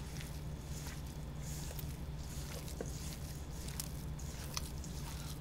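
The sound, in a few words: mixing meatball mixture by hand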